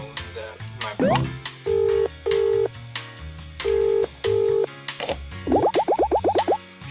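Telephone keypad tones in the video game Escape from Ever After, a run of loud, distinct dialing beeps in pairs and short bursts, ending in a rapid rising flurry of boing-like blips.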